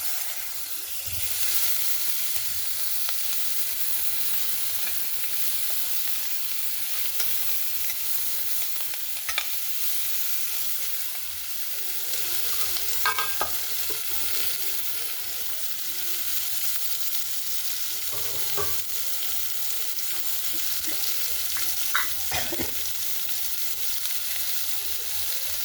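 Onion and potato for khichdi fry in oil with a soft, constant sizzle and hiss, punctuated by a few sparse clinks and scrapes of a stirring spoon, fairly quiet and free of talk.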